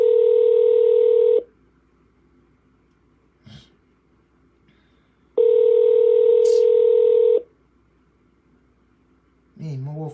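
Two long steady phone keypad or dial tones ring out clearly, each lasting over a second and separated by near silence, sounded while calling back people who had phoned; a short burst of a voice comes at the very end.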